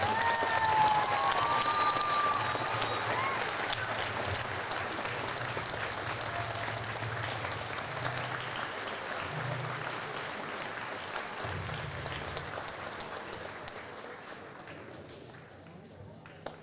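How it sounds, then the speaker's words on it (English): Audience applause at a Black History Month high school assembly, a sustained burst of many hands clapping in a large room that slowly fades out, with voices over it. "give one more round of applause"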